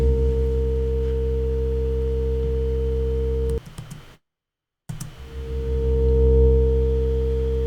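A sustained NI Massive synthesizer drone plays loud and steady, cuts out briefly to silence, then swells back in gradually under its amplitude envelope with a slow attack and long release.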